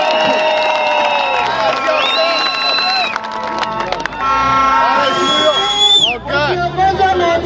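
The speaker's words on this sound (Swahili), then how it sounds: "Tuwapigie makofi." A large crowd at a Kenyan political campaign rally cheers and applauds for the local MCAs. The noise is loud and dense throughout, with sustained tonal blasts and whistle-like sounds rising over the roar.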